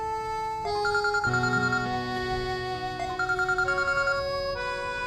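An electronic phone ringtone plays a repeating melodic pattern, steady and clear throughout, with no voices.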